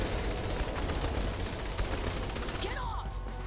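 Dense gunfire and explosions from Saints Row: The Third rattle continuously, a busy fusillade with shouting voices mixed in.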